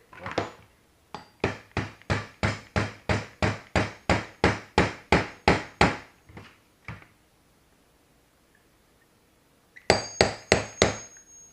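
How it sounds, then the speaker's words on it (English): A rapid run of sharp metallic hammer taps driving a pin into a Canik / Tristar P120 pistol slide, about fifteen evenly spaced strikes, then a pause and a few more quick taps near the end. "you can hammer down that pin"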